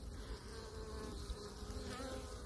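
Honeybees buzz at a hive entrance, some arriving with yellow pollen, a dense continuous drone close by with no voices.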